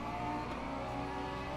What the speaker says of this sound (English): Here's an LMP3 behind us.